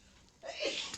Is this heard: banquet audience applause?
no